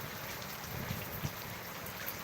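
Rain falls over Dhaka during a thunderstorm, a dense, even hiss of drops with a couple of slightly louder splats against surfaces.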